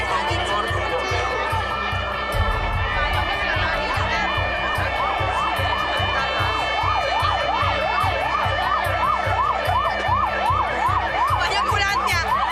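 An ambulance siren wails loudly and close by at an emergency-services event in Alcoi, its rising and falling tone repeating steadily over a constant rumble and crowd murmur.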